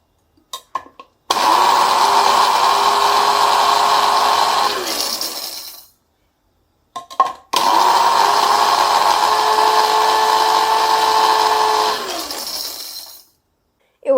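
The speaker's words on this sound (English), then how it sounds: "so I put some small pieces of aluminum foil to a coffee grinder" A small coffee grinder grinding pieces of aluminum foil whirs loudly in two long bursts of several seconds each, with a harsh rattling whine and short pauses between them.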